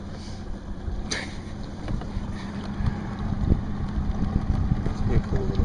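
A motorboat engine idles on a lake with a steady low drone, with wind buffeting the microphone and water noise throughout.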